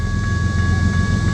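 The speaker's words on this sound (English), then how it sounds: "That train's a coming." A loud steady rumble of an oncoming train at a level crossing with old cantilever signals, an electronic crossing bell ringing in sustained tones above it.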